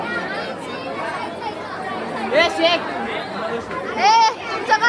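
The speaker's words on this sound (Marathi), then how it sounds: "संडे आहे तर आज दुसरी गर्दी आहे" A busy Sunday crowd at the Lonavala hill station fills the air with steady, close-by chatter and overlapping voices, a few louder exclamations rising out of the babble.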